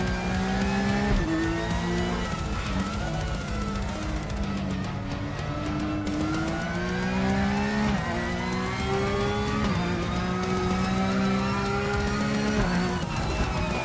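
Porsche race car in a sim racing game (RaceRoom or Project Motor Racing), its engine droning loud and steady with rising and falling revs through gear changes, tires squealing at moments, no talk over it.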